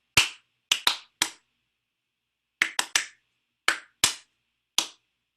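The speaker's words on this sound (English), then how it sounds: "I clap. I'm going to start quietly and get louder and louder." Hand claps struck one at a time in irregular clusters with pauses between, each sharp and close, alone with no talk, growing somewhat louder across the sequence.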